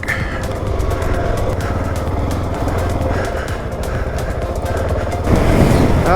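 Small motorbike engine revving steadily close by, a continuous buzzing drone with rapid firing pulses and a slight rise in loudness near the end.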